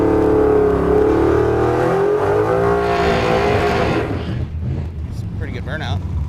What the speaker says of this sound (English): It's a pretty good burnout.